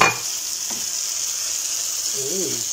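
Beetles sizzling in a hot frying pan for a home-cooked kinamatisang salagubang, a steady hissing fry with a clatter as they are stirred, and a short voice toward the end.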